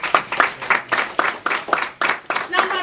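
A church congregation claps in a steady rhythm during a sermon, loud sharp bursts repeating about three times a second, with voices mixed in.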